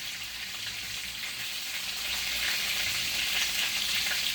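Chicken wings fry in a pan with a continuous, close sizzle that swells slightly louder partway through, with no voices.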